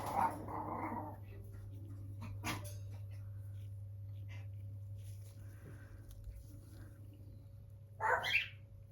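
A dog growls and gives a brief whimpering bark indoors. The sounds are faint at first, then a short, louder outburst comes near the end over a low steady hum.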